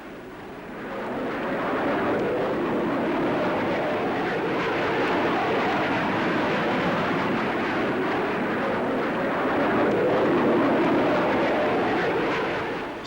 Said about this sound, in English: Powered by 4 Rolls-Royce Avon jets, this aircraft will fly from London to Johannesburg via Cairo and Nairobi in just over 15 hours.